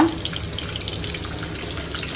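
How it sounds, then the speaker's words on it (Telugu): Chunky cut onions go into hot tempering oil while cooking a mushroom fry, giving a steady broadband sizzle that stays even and continuous throughout, close up with no speech. "పెద్దగా కట్ చేసుకున్న ఆనియన్స్ వేసుకోవాలన్నమాట"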